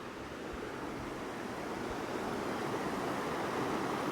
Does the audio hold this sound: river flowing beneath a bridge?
yes